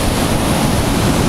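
Stormy sea crashing at Simeiz in Crimea: continuous heavy surf roar with wind buffeting the microphone, loud and close, unbroken throughout, no talking.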